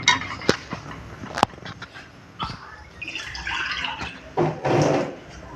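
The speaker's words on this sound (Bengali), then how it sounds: "আর একটু সামান্য জল দিলাম" A little water is poured into a pan of pea and potato curry, heard as a few sharp clinks and then a soft, close splashing pour that swells near the end.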